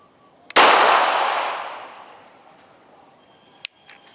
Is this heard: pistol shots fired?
yes